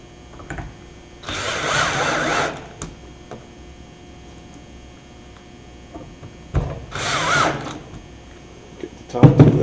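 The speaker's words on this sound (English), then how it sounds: "Get the top two in. Set my top two in." A power drill drives screws into wood panels during installation, two separate bursts of whirring lasting about a second each, close and fairly loud, with quiet handling noise between them.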